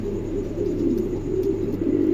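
Low, throaty cooing of a Lakkha pigeon at a pigeon market, soft and continuous at close range over a faint background hum.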